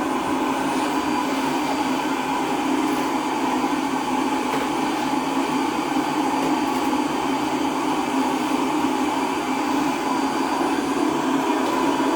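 A vacuum cleaner drones steadily and loudly from start to finish, a constant whirring hum with no pauses.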